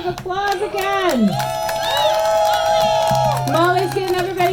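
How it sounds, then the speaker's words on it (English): Rally crowd at a bodily autonomy event cheers and claps loudly, with sustained whoops and shouting voices carrying over steady applause for the full stretch. "can we please give a round of applause again?"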